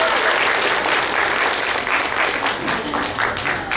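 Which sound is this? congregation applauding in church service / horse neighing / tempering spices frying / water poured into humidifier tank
congregation applauding in church service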